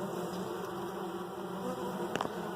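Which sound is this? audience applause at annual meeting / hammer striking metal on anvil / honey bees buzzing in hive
honey bees buzzing in hive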